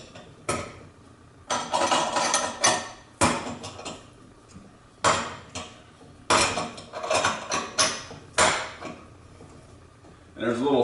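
Metal clinks and ratcheting clatter from a socket tightening a nut during restoration of a Delta Rockwell Unisaw, a series of sharp bursts spread over about ten seconds, close and fairly loud.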